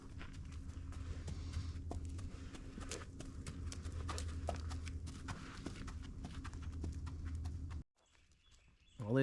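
Wild horses walk along a sandy trail on an Atlantic barrier island, their hooves clip-clopping in a steady, close, irregular rhythm for several seconds before the sound cuts off abruptly.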